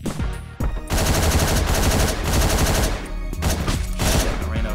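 Rapid gunfire from the top-down shooter Hotline Miami, a dense, loud burst of shots running almost continuously over pounding game music, with a brief dip near the start.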